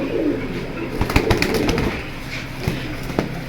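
Pigeons in a collection coo softly and low, with brief fluttering wing claps and scattered clicks nearby.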